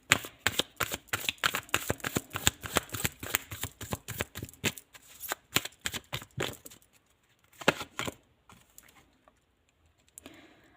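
Tarot cards shuffled in quick, crisp riffling bursts, then slower scattered taps and slides as single cards are drawn and laid down, close and alone.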